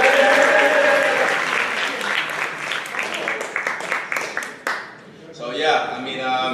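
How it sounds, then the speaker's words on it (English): Audience applause at a high school soccer award ceremony, a sustained wash of many hands clapping with voices mixed in, fading out briefly before a few scattered claps and chatter pick up again near the end. "Please give him a clap."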